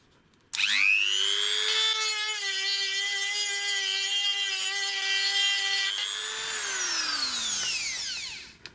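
A DrillPro die grinder fitted with a grinding stone bit spins up to a steady high-pitched whine, holds for several seconds with a slight dip under load, then winds down; close and alone.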